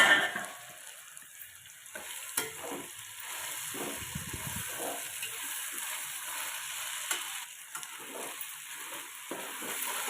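Onions and mixed vegetables sauté in a pan for veg pulao, a steady oily sizzle with soft scraping stirs now and then, close and moderately loud, no talking.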